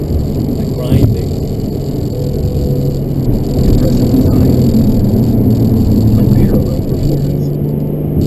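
Porsche 718 Boxster GTS 4.0 with a six-speed manual cruising on open Wyoming roads, a steady, loud engine drone with road and wind noise throughout from inside the car.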